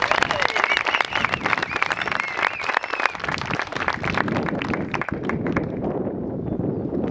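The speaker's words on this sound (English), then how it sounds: "Let's give them another round of applause." Audience at a ribbon cutting ceremony for a senior living community gives a round of applause, dense clapping that thins toward the end while a voice talks over it.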